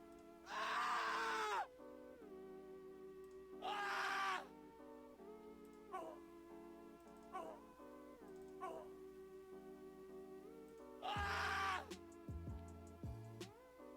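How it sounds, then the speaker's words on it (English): Screaming sound effect auditioned for a Roblox horror game death screen, heard as three loud, harsh bursts of about a second each, separated by quieter tonal game music. "What else we got here? That scream."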